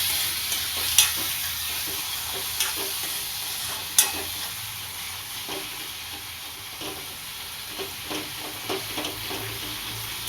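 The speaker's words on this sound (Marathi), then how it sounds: "आता याला मी 2-3 मिनिटं असे तेलामध्ये सगळे मसाले फ्राय होऊ देईल" Spices sizzling steadily in hot oil in a pan for a dried bombil chutney, a soft continuous fry with occasional light stirring clicks, no talking.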